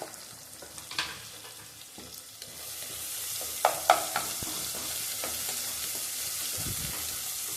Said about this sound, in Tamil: தக்காளி வதங்கணும்.